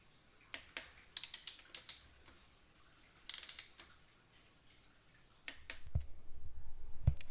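Ratchet wrench clicking as cylinder head bolts are tightened in stages during a motorcycle engine rebuild: short bursts of crisp close-up clicks, a louder spell in the middle, and low rumbling handling noise near the end.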